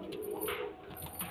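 A short burst of low, throaty pigeon cooing, close and continuous, from birds kept at a home loft.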